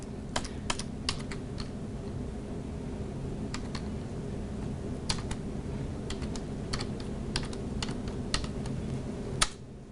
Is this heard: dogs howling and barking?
no